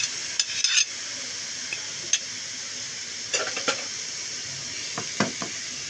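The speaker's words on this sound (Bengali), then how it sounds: "এখন বাটা মশলাগুলোকে আবার চালের সাথে আর একবার একটু মিশিয়ে আর একটু ভেজে নিচ্ছি" Rice frying in a pan with ginger and garlic paste for khichuri, a steady hiss of sizzling with a few scraping stirs of a spoon, close and alone.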